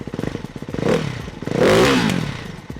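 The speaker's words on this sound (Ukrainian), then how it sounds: "Ось так працює цей двигун." A Ducati Hypermotard 698 Mono single-cylinder engine runs close by, chugging rhythmically at idle and then swelling into a louder rev before settling.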